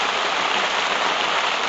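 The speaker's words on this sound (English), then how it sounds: "but it is raining like hell." Heavy rain pouring onto a camp shelter in southwest Oregon, a dense, steady hiss of drops drumming close and loud with no break.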